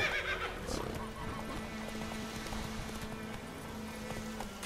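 Roach the horse in The Witcher 3, a neigh near the start followed by a continuous rhythmic clatter of galloping hooves under ambient game sound.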